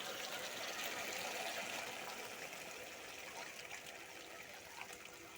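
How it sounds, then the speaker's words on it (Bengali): Water poured into a fish and eggplant curry in a pan, a steady hissing splash that stays close and even before easing slightly toward the end. "এবার জল দিয়ে দেব"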